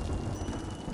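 Storm rain in a video game hisses as a dense, steady wash of noise with a low rumble underneath, heard alone for about a second.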